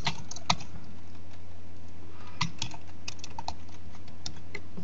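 Someone typing an IP address on a computer keyboard: a run of quick, irregular key clicks, close and clear, with short pauses between bursts and no talking.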